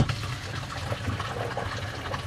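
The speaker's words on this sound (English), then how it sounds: "now it's time to drain it out so we can do the rinse water" Wash water drains from the bottom of an RV shower, a steady low gushing and trickling of liquid with no talk over it.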